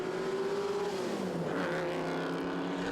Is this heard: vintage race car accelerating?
yes